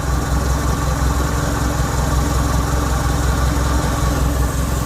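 A used car's engine idles smoothly and evenly, holding a steady low mechanical hum from start to finish, close by and with no voices.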